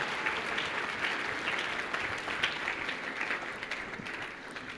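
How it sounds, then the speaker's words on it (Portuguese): Steady applause from a church congregation welcoming a guest at a worship service, a dense even wash of many hands clapping at moderate distance, continuing unbroken throughout with no talk over it. "E hoje nós vamos receber o Haroldo com muita salva de palmas para ele"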